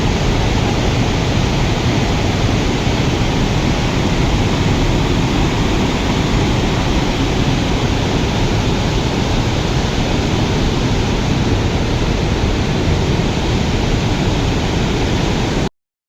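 Loud, steady broadband roar of water rushing through the open crest gates of the Nagarjuna Sagar dam, a continuous close-up thunder with no breaks and no voices.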